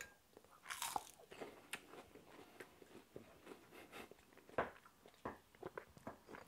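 Close crunchy bites into a crisp, light-battered tempura pepper, several sharp crackling crunches followed by softer chewing, with no talk.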